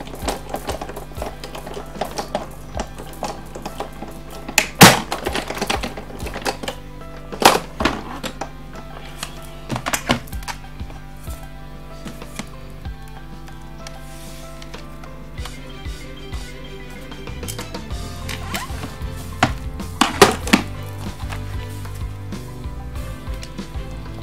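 Card stock being cut for a homemade scrapbooking birthday card, heard as scattered close, crisp clicks and crunches with quiet gaps between them.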